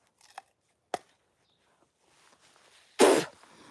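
A kitchen knife slicing through a purple potato: a few light cutting ticks, then one louder, crunchy split near the end, close by in a quiet room.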